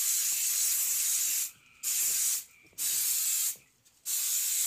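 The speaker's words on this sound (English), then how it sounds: "So you're going to spray this about 6 to 8 inches." Aerosol waterproofing spray hissing onto canvas shoes from several inches away, in three long bursts separated by short pauses, close and steady with no talking.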